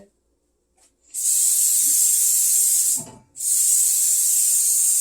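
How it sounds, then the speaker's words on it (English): Two sustained hissing sprays of Pam Original cooking spray onto a baking sheet, about two seconds each, separated by a brief pause with a light clatter, close and loud. "I'm going to spray the pan with some Pam Original"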